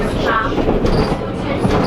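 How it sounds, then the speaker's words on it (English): Nottingham tram riding toward the Goose Fair, a steady close rumble of the car over the rails with broadband noise throughout and faint chatter mixed in. "Andy, we're not getting off the tram here"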